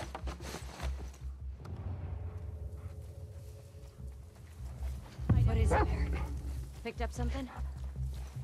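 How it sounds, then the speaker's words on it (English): Dogs in The Last of Us Part 2 video game, a few bursts of barking and whimpering mixed with game effects, partly under someone talking over the gameplay. "Apparently, y'all hate when I kill the dogs"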